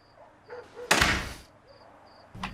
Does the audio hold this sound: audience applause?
no